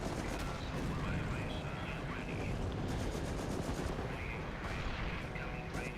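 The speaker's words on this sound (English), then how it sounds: "we might show you the artillery barrage" Continuous artillery barrage and gunfire in the Company of Heroes Blitzkrieg Mod real-time strategy game, a dense rumble of blasts and shots with steady battle noise, heard under occasional low talk.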